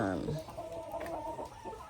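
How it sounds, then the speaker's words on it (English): Chickens cluck and chatter together just after being let out of their coop at 6:30 in the morning, a busy close flurry of short clucks and squawks. "I let the chickens out."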